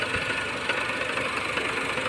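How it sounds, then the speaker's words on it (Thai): A Honda car engine idles steadily just after being started, a close, even mechanical hum with a faint rhythmic knock and vibration and no voices. "ตอนนี้สตาร์ทเครื่องยนต์เรียบร้อยแล้วนะครับ ตอนนี้เครื่องยนต์ทำงานปกติ"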